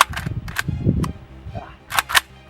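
AK rifle fitted with an ALG trigger, fired at a 25-yard range: several sharp, loud reports in quick succession, with a pair of close shots near the end and low rumble and some talk-like sound between them.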